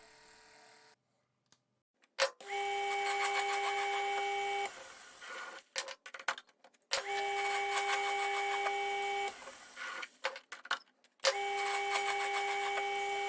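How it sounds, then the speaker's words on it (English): A milling machine runs a fly cutter across a thick metal slice for a magnetic chuck build. Three long passes give a steady whirring tone with a harmonic ring, separated by quiet gaps and a few clunks and knocks. "The middle slice is too thick, 2 mm of it are milled away here with a fly cutter."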